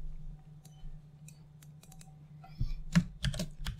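Computer keyboard typing sounds as sparse soft clicks at first, then a quick close flurry of louder keystrokes near the end, over a low steady hum with no talking.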